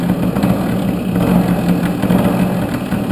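A cold Tomos LX moped engine idles close by, a loud, steady low chugging putter with slight uneven wavering and no voices.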